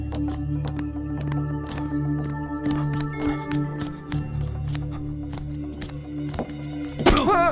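In a Hindi pirate audio drama, belongings are dropped in a kitchen, giving a series of dull, irregular thunks and knocks over a steady low hum, followed by a short vocal sound at the end.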